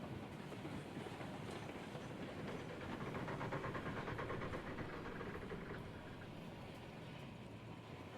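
A train rolls along in the Railroads Online video game with a steady rumble and rhythmic clickety-clack of wheels, plus some steam hiss, faint and continuous with no talking.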